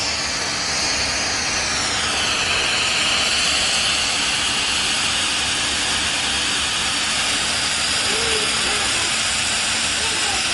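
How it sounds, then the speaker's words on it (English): A Bissell PowerFresh Lift-Off pet steam mop releases steam on a tile bathroom floor, giving a steady, loud hiss with a rushing jet-like tone that holds throughout, with a voice faintly underneath. "This thing is a steam machine."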